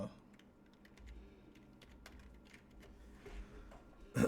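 Someone types a search query on a computer keyboard, the soft key clicks faint and irregular through a quiet room, ending with a louder burst at the close.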